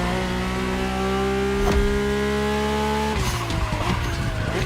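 Mercedes-AMG One hypercar driven in the racing game The Crew Motorfest, a steady loud engine drone with layered harmonics that shifts pitch near the end amid tire skid noise, with no talking.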